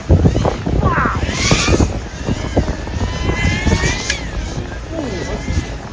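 A helicopter in flight over Christchurch, its rotor and engine noise rumbling close throughout with wind buffeting the microphone, as people talk over it.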